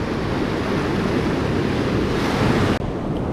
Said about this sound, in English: the crashing waves have started to move out